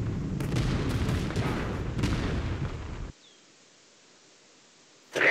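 Cannon fire in the World War Armies game, a loud rumbling barrage of booms for about three seconds, then near silence before another heavy blast erupts at the end.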